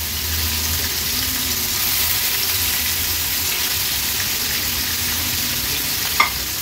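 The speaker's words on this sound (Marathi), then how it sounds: "लो फ्लेमवर ह्या गोळीच्या दोन्ही तुकड्या आपण सोडणार आहोत तेलात." Two pieces of dough drop into hot oil with skin-on crushed garlic over a low flame, giving a steady, even sizzle throughout with a single small knock near the end.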